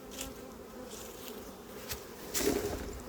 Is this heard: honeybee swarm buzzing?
yes